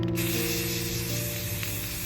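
Spray paint hisses steadily onto a thrifted cat-shaped home decor piece during its second coat, a close, continuous aerosol spray with no talking.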